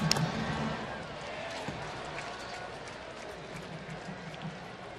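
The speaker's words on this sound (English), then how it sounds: "a group of thousands out there cheering them on in the outdoor set just outside the stadium" Crowd of thousands cheering at an outdoor set just outside the Oakland Coliseum, a distant, continuous roar of applause and voices, louder at the start and then easing into a steady murmur.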